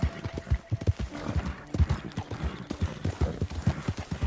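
Rhythmic clip-clop of horse hooves trotting steadily at close range in Red Dead Redemption 2, with faint ambient background noise.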